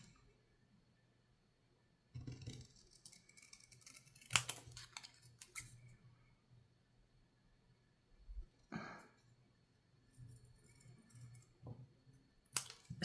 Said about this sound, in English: You can cut off these handles because you're not going to need them. Just cut straight across.